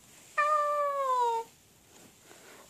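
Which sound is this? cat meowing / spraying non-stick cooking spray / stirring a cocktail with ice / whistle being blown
cat meowing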